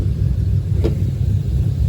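A cammed 6.0 Chevy Silverado with a five-speed and a Brian Tooley Racing stage 3 cam idles nearby, a steady deep rumble with one brief higher burst of sound partway through.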